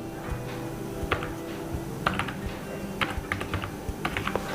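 Python code is being typed on a computer keyboard in a steady series of clicky keystrokes with short bursts and pauses, close and clear, with no talk.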